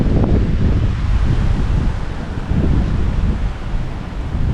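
Wind gusting at an outdoor fishing spot, a steady broadband rush with low rumbling buffets against the microphone, loud and continuous throughout, with no voices.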